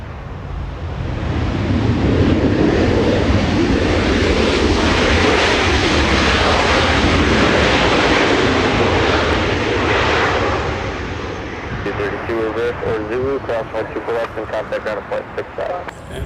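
A Southwest Airlines Boeing 737 Next Generation arriving at Los Angeles airport from Las Vegas, a loud jet roar swelling overhead and fading, with wind buffeting the microphone and a voice talking near the end.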